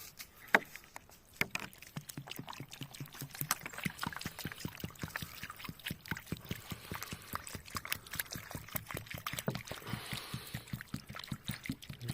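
Water splashes and trickles steadily onto a yellow raspberry plant in sandy garden soil, a close, continuous patter of small drops with a few louder splats.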